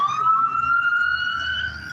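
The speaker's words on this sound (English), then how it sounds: "I know y'all hear them sirens, fam." An emergency siren wails steadily at a moderate distance, a single sustained tone gliding slightly, with faint background noise.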